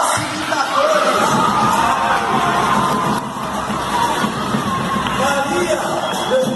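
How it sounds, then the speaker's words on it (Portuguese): A crowd at a judo event at a community centre in Pauini cheers and applauds the facilitators, with loud whoops and yells over continuous clapping and voices throughout. "uma salva de palmas para todos esses facilitadores"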